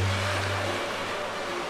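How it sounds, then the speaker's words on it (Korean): Rough sea waves surge against coastal rocks where a female coconut crab clings during spawning, a continuous broadband roar of surf with a low rumble, steady and fairly close, no voices. "쉴 새 없이 파도가 밀려오고"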